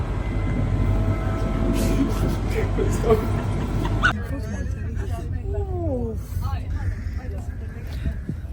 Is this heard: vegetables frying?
no